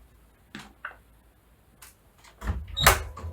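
Someone comes in through a home door, with a few soft knocks and clicks followed by a louder latch and creak near the end, close by in a quiet room.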